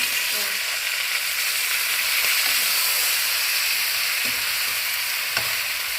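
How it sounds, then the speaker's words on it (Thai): Eggplant and basil leaves sizzle and hiss steadily as they are gently stir-fried in a hot pan, with a few soft scrapes of the utensil against the metal. "แล้วก็ใส่ใบโหระพาลงไปเลย เพราะว่ามะเขือเรามันสุกแล้วนะคะแล้วก็คลุกคนเบาๆค่ะ"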